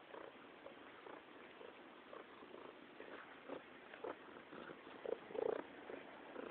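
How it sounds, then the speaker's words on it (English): A cat purring quietly up close, a soft continuous rumble with a few faint meow-like chirps toward the end. "What are you meowing for?"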